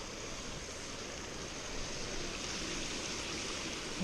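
A waterfall by a bass fishing spot roars in a dense, continuous rush of falling water, close and loud throughout with no voices.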